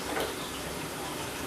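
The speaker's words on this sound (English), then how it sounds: "And you lift it up and let it drip off." Liquid runs off a lifted strip of photo paper into a darkroom tray as a steady, continuous trickle of close, fairly loud noise, with no talking.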